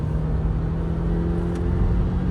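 A 2024 Subaru Crosstrek's engine, with a CVT, drones steadily under acceleration with constant road noise, close by and fairly loud.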